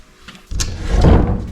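An old, stiff wooden cupboard door in a kominka farmhouse built around 1868 in Shimane is dragged open, one short scraping, rumbling slide lasting about a second, close and fairly loud.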